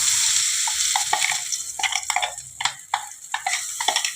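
Paste of ground chana dal and green peas sizzling in hot white oil, with a steady crackle and the scrape of stirring breaking in again and again, close up and with no talking.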